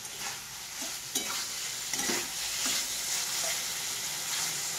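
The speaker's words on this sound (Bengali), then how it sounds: "এইভাবে আমি এখন কিছুক্ষণ ভাজবো" Tilapia pieces fry with drumsticks in an oiled pan, a soft, continuous sizzle with occasional light scrapes of a spatula, close and steady with no talking.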